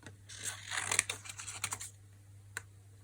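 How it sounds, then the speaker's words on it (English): Scissors cut through folded and glued paper for junk journal charms, a quick run of crisp snips crowded into the first two seconds, then a single later snip, close and fairly quiet. "now that we have these folded and glued, we need to cut them"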